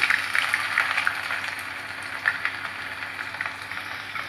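Chopped ginger hitting hot oil with fenugreek seeds for amla pickle, a continuous close, bright sizzle and crackle that holds steady throughout with small spattering pops.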